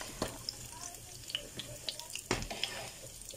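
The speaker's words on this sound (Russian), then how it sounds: "И вот жарю пирожки еще на сковородке." Pirozhki, filled pies, fry in a pan, giving a quiet, intermittent crackle and spitting sizzle with a few soft clicks, heard close up and low in level.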